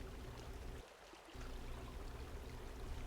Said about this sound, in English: we are here by the stream